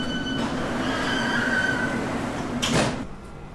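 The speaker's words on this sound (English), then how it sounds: "This is a Central Line train to West London." A London Underground Central Line train hums steadily with a faint electrical whine, then its sliding doors shut with a short rushing thud near the end, close by, with no voices.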